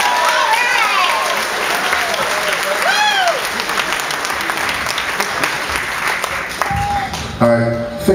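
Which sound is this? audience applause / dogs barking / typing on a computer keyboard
audience applause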